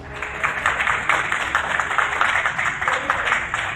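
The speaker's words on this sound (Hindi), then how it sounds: "पूरा एयरपोर्ट तालियों की आवाज से गूंज उठा।" Sustained applause from airport staff in Adana, Turkey, a dense steady patter of many hands clapping that fills the space without pause, moderately loud and continuous throughout.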